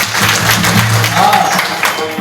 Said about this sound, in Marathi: टाळी वाजव त्याच्याकडे